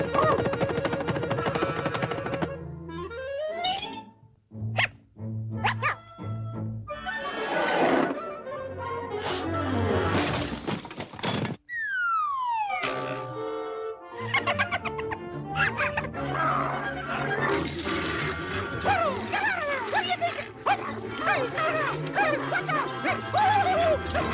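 Pluto, the cartoon dog, barks and yelps amid busy cartoon sound effects with whistling slides and musical stings, loud and close throughout.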